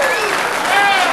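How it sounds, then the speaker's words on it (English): At the U.S. Open 9-Ball Championship, a crowd applauds a pool shot with dense, steady clapping that fills the whole moment, close and loud, mixed with bright ringing tones. "And listen to the crowd again"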